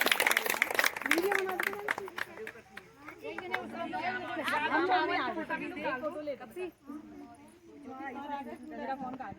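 Group clapping at an anganwadi baby shower (godh bharai) event in Rai Nagar, rising in bursts with lively crowd chatter and people talking over it throughout.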